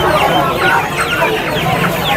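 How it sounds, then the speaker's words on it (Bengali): Chickens cluck loudly and continuously at a busy roadside chicken market in Rajarhat, Kolkata, where desi and Kadaknath birds are sold, with overlapping calls from many birds close by. "দেখুন মুরগিটা একদম পুরো ছেড়েই দিয়েছে রাস্তায়।"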